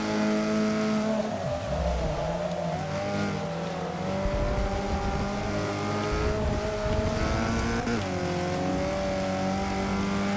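Alfa Romeo GTA race car in Forza 6 holds a loud, steady engine drone for the whole stretch, pitch rising and falling with gear changes, with faint tire noise underneath.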